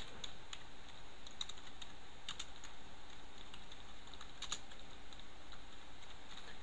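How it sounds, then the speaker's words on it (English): Keys clatter on a computer keyboard as a disk partition command is typed, a run of quiet, close, irregular clicks over a faint steady background hiss. "So I just typed down create partition primary."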